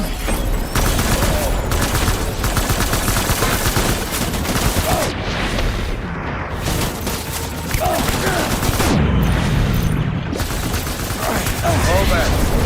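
Heavy gunfire in the Death Stranding video game, dense continuous rattling bursts and booms that stay loud and close throughout, with brief dips in the shooting and a voice speaking under the noise.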